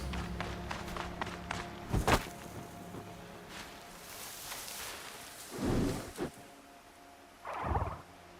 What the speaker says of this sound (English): Pressure's lifting. Rain's here.